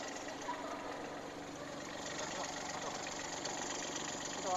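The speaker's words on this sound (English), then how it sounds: "to start the engine." A 2-ton mini excavator's diesel engine runs at a steady idle, a continuous close mechanical drone with no voices over it.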